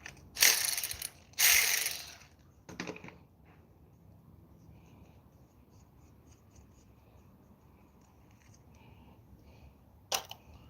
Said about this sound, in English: take out this nut here